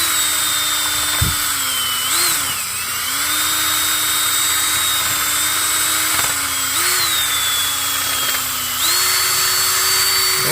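A drill spins a Scotch-Brite pad mounted on a bolt against a carbon-coated GDI intake valve, a loud steady whine that dips and rises in pitch several times as load changes, close up.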